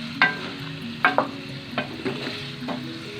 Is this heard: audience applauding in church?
no